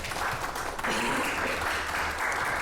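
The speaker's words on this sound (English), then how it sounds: "I'll give a round of applause for that." An audience at a cannabis flower expo panel in Massachusetts gives a round of applause, a steady wash of clapping that holds at an even loudness for a couple of seconds.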